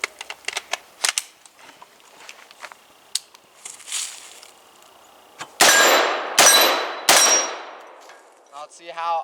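.223 full metal jacket rounds from an AR pistol striking a steel plate: three loud, sharp clangs with ringing tails about a second apart, after softer scattered clicks and handling knocks.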